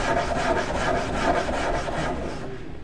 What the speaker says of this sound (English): we're going to bevel the edge, and we have a diamond file. Let's see how that is working.